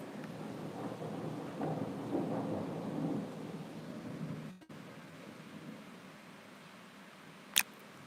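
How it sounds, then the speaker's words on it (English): A thunderstorm outside: low rolling thunder swells in the first half over steady rainfall, which continues more quietly afterward with one sharp tap near the end. "these are thunderstorm"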